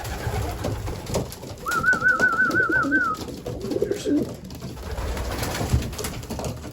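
A racing pigeon coos once in a short rolling warble inside a loft, amid a busy, shuffling background of movement and faint bird sounds nearby.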